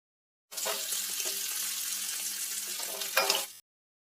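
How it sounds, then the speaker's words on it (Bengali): Onions frying in a pan for a Bengali jackfruit and prawn biryani, making a steady close-up sizzle that starts abruptly, holds for about three seconds and swells briefly before cutting off. "এবার আমরা পেঁয়াজটা ভেজে নেব"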